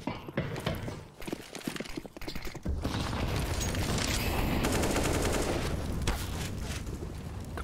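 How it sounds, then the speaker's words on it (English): Gunfire in a Counter-Strike match on the Nuke map at a professional esports final: scattered shots at first, then dense, sustained automatic bursts and overlapping fire building into a loud, continuous barrage. "A couple shots come through for Electronic"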